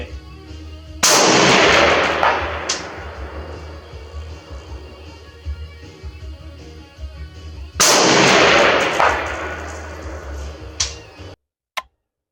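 Two loud SDM-R rifle shots fired on a marksmanship range, each a sharp blast with a long rolling echo, spaced about seven seconds apart, followed by metallic clicks of the action.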